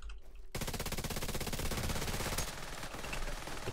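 Sustained automatic gunfire in The Division 2 Dark Zone opens abruptly and keeps hammering in a dense, rapid stream of loud shots.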